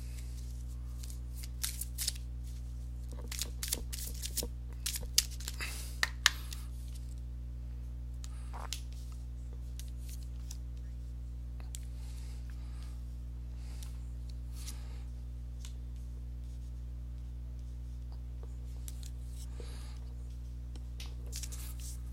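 Tarot cards are shuffled close by in scattered soft riffles and flicks over a steady low hum, with the busiest shuffling early and quieter handling later.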